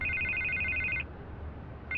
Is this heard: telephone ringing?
yes